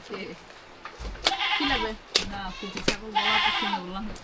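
A young goat bleats twice, close and loud, each cry wavering and drawn out, with short pauses between.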